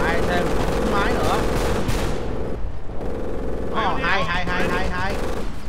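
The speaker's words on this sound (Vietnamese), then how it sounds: "Đây thêm súng máy nữa." Bursts of machine gun fire and other battle noise from the video game Company of Heroes rattle in dense volleys, with a short lull in the middle, while someone talks over the action.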